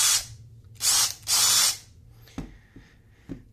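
A Makita DHP482 cordless drill in hammer action mode fires three short, loud rattling bursts in quick succession, followed by a few quieter mechanical clicks and taps.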